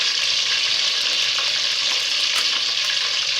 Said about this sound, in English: To fry your onions for some minutes